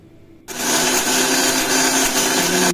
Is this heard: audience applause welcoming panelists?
no